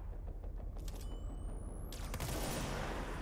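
Gunfire in the video game Control, a fairly quiet burst of rapid shots with mechanical clatter and a rising electronic whine, ending in a broader blast of noise.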